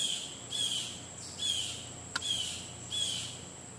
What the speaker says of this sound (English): hear that bird?